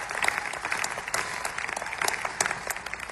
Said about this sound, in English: give a pause for them to clap for the people that defused the fucking bomb